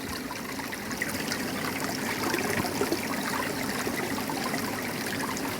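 Water runs steadily through a pond dechlorinator, a continuous close trickling and splashing wash of even loudness with no speech.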